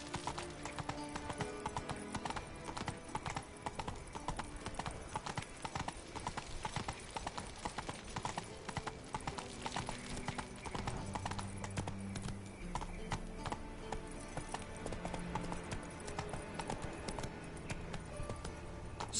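Roach the horse galloping in a video game, a dense continuous run of hoofbeats clip-clopping close and loud, with a whinny and faint game sounds mixed in.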